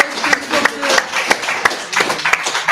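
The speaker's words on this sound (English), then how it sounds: "Can we give a round of applause to Trevor on the ones and twos" An audience at a mayoral forum claps in short bursts while people speak over it. The hand claps are close and dense.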